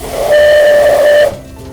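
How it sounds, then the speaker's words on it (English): A loud, steady steam locomotive whistle blows for about a second with a breathy hiss, then cuts off, leaving a low rumble. "this is the whistle. The whistle works when I pull this handle."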